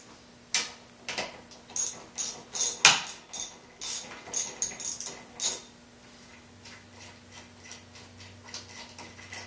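A ratchet wrench with a half-inch socket loosening bolts on a Honda GX200 small engine in a cyclekart workshop clicks in quick bursts of ratcheting, loud and close, then fades to a low hum.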